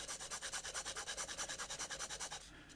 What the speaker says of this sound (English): It's a little bit scratchy on the nib.